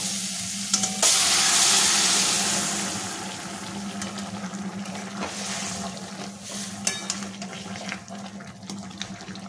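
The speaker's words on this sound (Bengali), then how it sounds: "এবার মশলাটাকে ভালো করে কষে নেব" Spice masala for moong dal ghugni fries and sizzles in a pan, with a steady hiss that swells early, then settles under occasional clinks and stirring scrapes, no talk.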